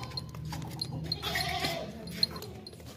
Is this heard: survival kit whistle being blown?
no